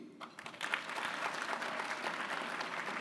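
Dense, steady applause from an audience at a mayor's small business conference and expo, a broad wash of many hands clapping at once that stays loud and even for the whole stretch.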